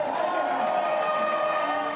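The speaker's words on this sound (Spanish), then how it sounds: "Su discurso era interrumpido por los gritos y los aplausos" Crowd at a political campaign speech shouting and cheering, a dense sustained roar of many voices held steady across a short stretch.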